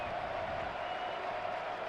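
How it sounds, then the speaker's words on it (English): Football stadium crowd at a college game, Indiana at Maryland, filling in and growing loud: a faint, steady wash of distant voices and murmur with a thin sustained tone, even and unbroken. "Crowd here at CQ Stadium that is filling in gradually, starting to get loud"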